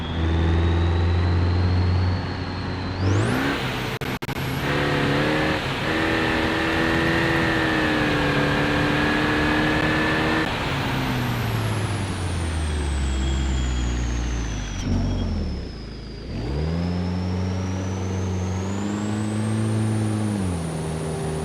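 A loud car engine revs hard and continuously, its pitch climbing and dropping through several gear changes. An engine fault warning is showing, apparently from a poor tune.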